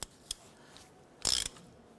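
A nut on the front wheel bearing of a 1993-1997 Ford Ranger is worked with a ratcheting tool: two quick clicks, then a short, bright burst of ratchet clatter, close and fairly quiet.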